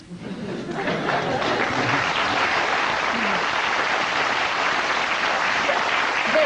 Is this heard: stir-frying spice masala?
no